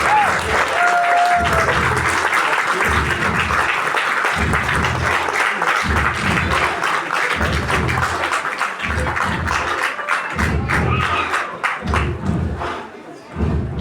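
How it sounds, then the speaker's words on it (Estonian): Big round of audience applause at a school playback show awards ceremony in Estonia, with sustained crowd clapping punctuated by a regular series of heavy, rhythmic thumps, like stamping feet, that fades toward the end. "Teeme suure aplausi"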